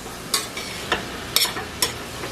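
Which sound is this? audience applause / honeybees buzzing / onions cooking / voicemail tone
onions cooking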